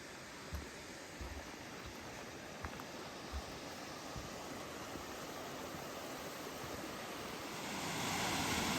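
A waterfall roars in a steady, even rush of water, with a few soft knocks and the noise swelling louder near the end.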